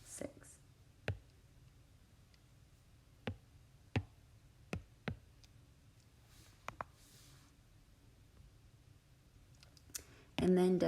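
Computer keyboard typing of a short math expression, sparse isolated key clicks spaced about a second apart, close and quiet in a hushed room.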